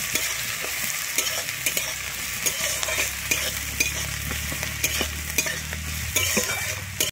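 Chopped onion and green chili frying in oil, a steady sizzle punctuated by repeated scraping stirs of a spatula against the pan, close and fairly loud.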